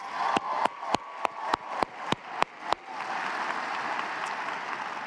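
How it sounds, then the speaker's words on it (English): Graduation commencement audience applauds the graduating musicians, starting with a run of sharp, evenly spaced claps that swell into a steady, full round of clapping from a large crowd. "Can we give them one more round of applause?"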